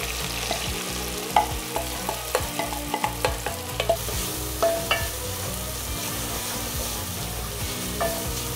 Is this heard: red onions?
yes